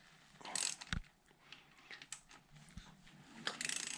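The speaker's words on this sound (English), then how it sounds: "We're going to take this front wheel off. Loosen the" Ratchet clicking in short bursts while loosening the front wheel clamp bolts on a KTM 620 motorcycle, close and fairly quiet, with a few metallic knocks between strokes.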